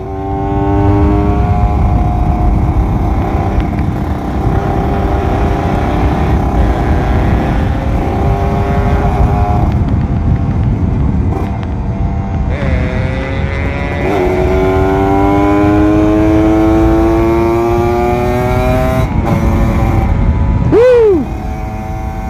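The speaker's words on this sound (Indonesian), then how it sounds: "Ini motor sumpah enteng banget larinya, apalagi kalau udah dipanteng RPM" A Kawasaki Ninja RR 150 two-stroke motorcycle is ridden hard, its engine whining loudly through rising and falling revs and gear changes. The sound stays continuous and close, with a sharp rev spike near the end.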